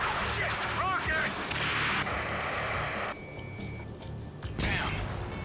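Rocket explosion in the Ace Combat 7 video game, a loud booming blast among continuous gunfire and battle din, with radio chatter and shouting voices over the top.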